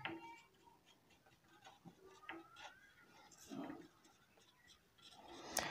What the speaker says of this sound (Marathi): या ठिकाणी लिहितोय उदाहरणातील अट पहिली